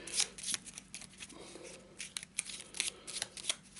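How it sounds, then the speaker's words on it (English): A deck of Arkham Horror cards is shuffled by hand in a run of quick, crisp riffling bursts, close and fairly quiet, with no talk over it. "make sure we give it a bit of a shuffle"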